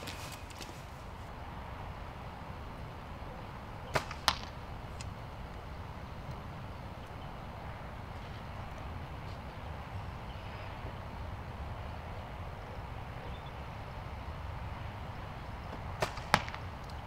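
Arrows from a compound bow with a water-soaked string strike a bag target outdoors, giving two sharp thwacks near the four-second mark and two more near sixteen seconds over steady wind-like background noise.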